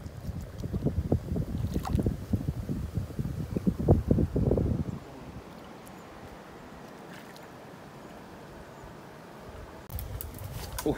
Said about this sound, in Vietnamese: Ui mát quá. Gió mát.